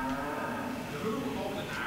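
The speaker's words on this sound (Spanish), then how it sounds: "que escuchan el moo de la vaca" A cheap plastic toy gives out a cow moo, a single drawn-out lowing tone lasting about two seconds and fairly loud against a faint background.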